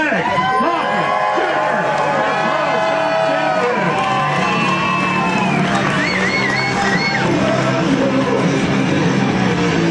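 A drag racing crowd at the AC Delco Gatornationals cheers, whoops and shouts, loud and continuous, with a voice talking over it throughout.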